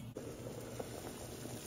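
Chicken noodle soup boils in a pot on the stove, a soft steady bubbling simmer with faint pops, heard quietly and close with a thin high whine above it.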